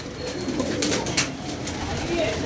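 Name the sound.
pigeons cooing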